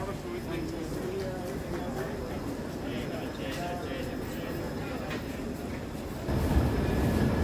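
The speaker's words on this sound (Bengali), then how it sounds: "একদম নির্ধারিত সময়ে আমাদের ট্রেন ছেড়ে দিল এনজেপি স্টেশনের 1 নম্বর প্ল্যাটফর্ম থেকে" The Shatabdi Express pulls away from platform 1 at NJP station with a low, steady rumble of rolling coaches that grows heavier and louder toward the end, while a voice talks over it.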